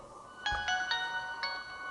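A phone powering up without a SIM card plays a short melodic startup chime of several bright tones in quick succession, close and moderately loud over faint room noise.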